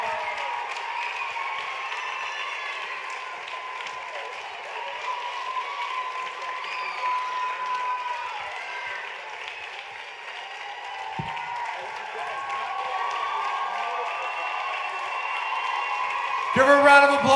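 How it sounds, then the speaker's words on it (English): An audience at the NYCDA Orlando Nationals dance gala claps and cheers in a sustained, moderately distant wash of applause during a winners announcement, with a brief louder burst at the end. "Give her a round of applause."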